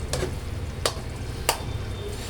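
Jaggery and ghee cook in a pan while a ladle stirs, three distinct scraping strokes standing out over a constant low sizzle, with no talking.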